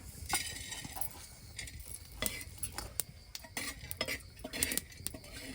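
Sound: dry roasting whole spices and dal in a pan

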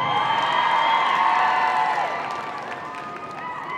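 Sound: crowd cheering at Crufts dog agility show

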